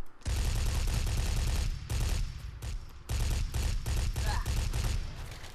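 Gunfire in the online shooter game Brick-Force comes as loud rapid bursts of repeated shots, broken by brief gaps, in a dense, nearly continuous barrage.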